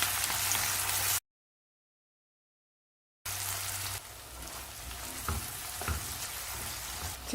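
Chicken sautéing in a pan with curry leaves and tomato, a steady frying sizzle broken by a silent gap, then sizzling again with occasional scraping stirs.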